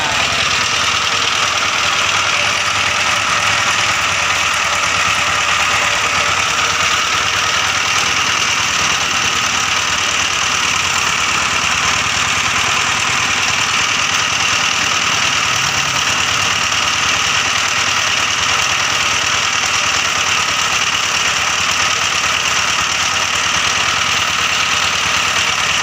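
Dong Feng S1110 20 HP single-cylinder diesel engine running after a service, a loud, steady close chugging drone that holds unchanged throughout, no talk.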